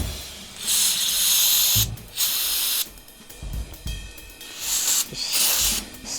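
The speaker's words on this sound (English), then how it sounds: "Just spray some of this crap off here" Several bursts of hissing aerosol cleaner spray on a 1967 Ford truck, each lasting about a second, close and loud, with short pauses and faint handling noise between them.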